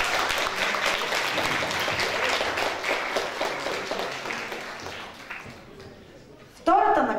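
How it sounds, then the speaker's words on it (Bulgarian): Audience applause at a sports awards ceremony, dense clapping that holds steady and then fades out, followed by an abrupt louder sound at the very end. "Аплодисменти, моля!"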